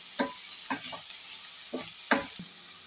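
Churuli thoran, a Kerala stir-fry of greens, being stirred in a pan: a steady bright sizzle runs throughout while a spoon scrapes in several short, distinct strokes.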